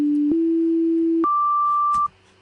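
Pure sine wave test tones from FL Studio, a steady low tone that steps slightly higher, then jumps to a brighter pitch before cutting off, with faint clicks at each change.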